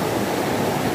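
The Pikhuwa river in Bhojpur, Nepal rushes past nearby, a loud, dense, unbroken roar of flowing water with no other sounds.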